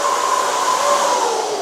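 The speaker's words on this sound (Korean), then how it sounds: "청소기 돌리시니까" A vacuum cleaner running during a move-in cleaning of an apartment, giving off a steady, loud, whining hum with no pauses.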